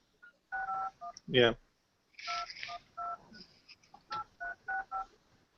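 Touch-tone telephone keypad beeps sound in short bursts of several dialing tones, interrupted by a brief rising electronic sweep and a pause, with someone briefly speaking nearby.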